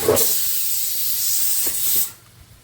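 Shrimp drop into hot oil with fried spice paste, a loud close sizzling hiss that holds steadily for about two seconds, then drops sharply to a faint crackle.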